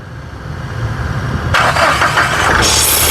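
A 2016 Mahindra Scorpio S4+ engine cranks, catches and starts, then settles into a loud idle with a brief rise in revs, heard close up with no talk.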